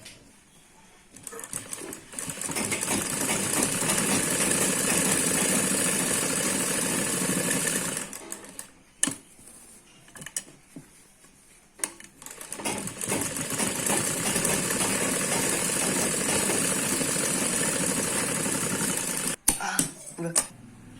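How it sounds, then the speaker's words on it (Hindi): A sewing machine stitches a seam on an umbrella frock, running in steady whirring bursts with a couple of brief pauses and clicks between runs, close and fairly loud. "और फिर हम इस पर एक सिलाई चलाएंगे।"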